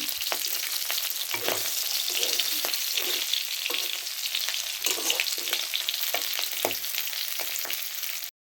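Fish, a slippery kind rubbed with salt, fries in a pan, sticking a little as it cooks: a continuous close hiss of hot oil with frequent sharp spits and crackles throughout.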